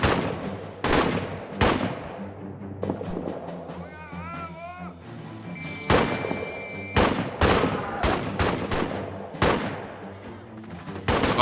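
Gunfire and grenade blasts from a World War I trench warfare video game, with repeated loud broadband bursts and rattling shots spread through the stretch, plus a brief whistling tone and faint background voices.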